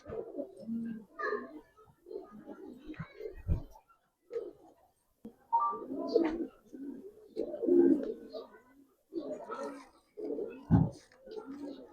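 Old-line giribaz pigeons kept for sale in Bangladesh coo in repeated soft, throaty bursts close by, with short gaps between calls and faint background voices.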